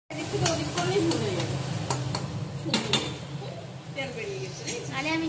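Egg hakka noodles are stirred vigorously in a hot pan, a close sizzle with repeated scraping and clinking of the utensil while people chat over it.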